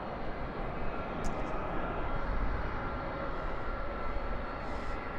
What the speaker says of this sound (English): there's that Airbus A380 we were all waiting for